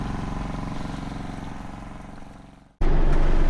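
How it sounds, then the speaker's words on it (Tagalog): Small engine of a foliar sprayer, running weak in a farm field, drones steadily, then winds down and cuts out briefly before surging back loud and close. "Medyo mahina lang ang buga ng makina."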